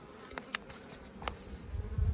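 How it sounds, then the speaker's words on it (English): Honey bees on a Buckfast or Irish Black colony give a faint, close buzzing with a few sharp wingbeat bursts, then a louder low hum swelling near the end. "All our worker bees are just checking her out."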